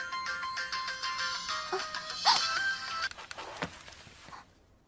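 A phone ringtone plays a repeating electronic melody for several seconds, fairly loud and alone, then cuts off abruptly as the call is answered.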